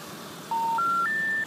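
A phone being dialed to place a call: three clear electronic touch-tone beeps, each about a quarter second long and rising in pitch, sound in quick succession over a quiet background.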